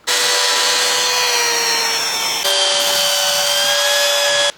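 A power sander working on the wooden body of a headless Telecaster guitar, a loud steady whining drone with a brief dip in the middle, close up and with no voices.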